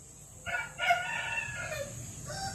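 A rooster crows once, fairly faint and somewhat distant, over a quiet background hum.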